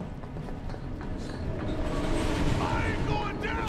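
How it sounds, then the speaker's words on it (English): A train rushing past in the Final Fantasy VII Remake video game, a continuous loud rumbling roar with rattling and screeching metal building toward the end. "The train's whipping by. It's crazy."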